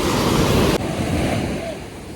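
Ocean surf washes steadily onto Anjuna Beach in Goa, a broad continuous roar of breaking foam with wind buffeting the microphone, strongest at the start and easing slightly.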